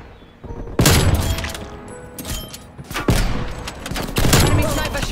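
Heavy gunfire in Call of Duty Cold War, with an enemy sniper among the shots: several loud booming shots ring out at intervals among a noisy firefight, with voices speaking faintly underneath.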